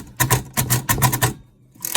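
A braille typewriter punches onto thick braille paper in quick bursts of loud, clacking keystrokes, with brief pauses between clusters and a short quiet gap before the typing resumes.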